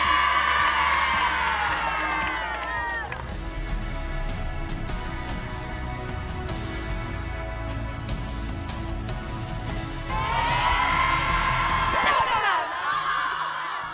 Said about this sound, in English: you can see the crowd gathered to watch the kids kiss